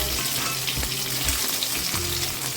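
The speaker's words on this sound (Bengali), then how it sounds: "মা মাছ দুটো ভেজে দিচ্ছে আর মাথাটাও।" Two hilsa fish pieces and a fish head fry in hot oil, giving a close, continuous hissing sizzle with faint spits and a low bubbling undertone.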